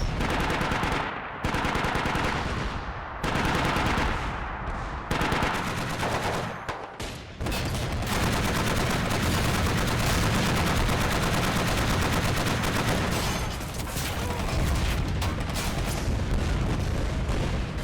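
Dense, loud gunfire from a war video game battle at a Syrian battery ridge defense, with rapid machine-gun bursts and booming artillery hits that build into a near-continuous barrage after a few short pauses.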